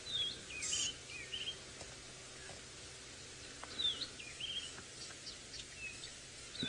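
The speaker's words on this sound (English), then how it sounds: "Quite a few little birds calling here" Small birds call from thick bush willow at sunrise, thin high chirps and short whistles scattered irregularly at middle distance over a quiet, faintly insect-filled background.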